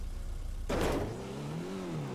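Car engine in the GTA 5 video game, an old vintage car, revs up with a brief loud burst, then settles into a rising, wavering engine drone as it accelerates slowly.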